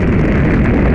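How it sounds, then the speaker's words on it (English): Massive rocket launch blast in the Black Mesa game, a dense, sustained roar of low rumble filling the whole second at high loudness with no break. "Why did we launch that rocket?"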